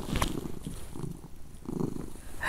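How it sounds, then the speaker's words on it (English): A domestic cat purring close by, a soft rhythmic rumbling in slow repeating waves, with a brief brighter sound near the start and no speech. "And this cat is so freaking annoying."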